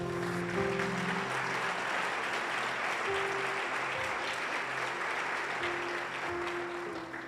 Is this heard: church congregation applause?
yes